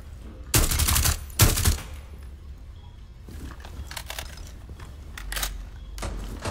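Gunfire from the tactical shooter Rainbow Six Siege: two loud bursts of shots early on, then quieter scattered shots and a final burst near the end, with no talk.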